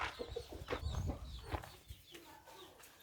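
Chickens kept on a rural self-sufficient farm in Thailand, with several soft clucks and short calls scattered over a quiet outdoor background, faint and fairly close.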